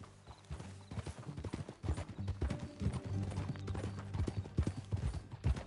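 Horse hooves clip-clop at a steady riding pace in the video game Red Dead Redemption 2, a busy, fairly quiet rhythmic clatter with faint background sounds.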